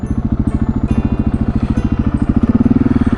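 KTM 701 motorcycle pulling a long second-gear wheelie, its single-cylinder engine pounding in a fast, even rhythm that climbs slightly in pace toward the end, loud and close.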